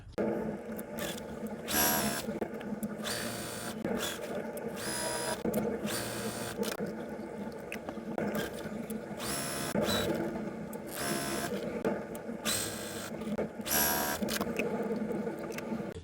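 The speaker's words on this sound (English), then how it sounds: "now we could take these to the sewing machine and sew directly on that line" A sewing machine stitches quilt pieces in repeated bursts of rapid mechanical stitching, close and fairly loud, with short pauses between runs.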